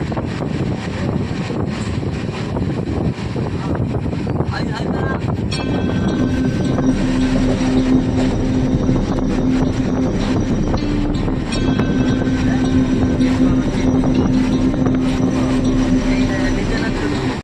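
Train rumbling along, a continuous loud roar with wind buffeting the microphone and a faint tonal whine appearing midway, steady throughout without any talking.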